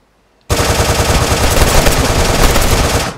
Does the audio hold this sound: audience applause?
no